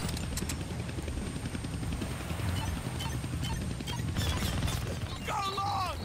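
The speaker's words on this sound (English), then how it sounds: "I can't kill that chopper with my guns" A helicopter in the Deadpool PS4 video game churns loudly and continuously with a steady, thick rotor roar throughout, joined near the end by a brief chirping tonal effect.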